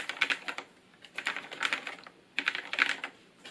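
Typing on a Filco Majestouch Stingray Ninja tenkeyless mechanical keyboard with low-profile Cherry MX Red switches: close, crisp bursts of light keystrokes in quick clusters with short pauses between, no voices.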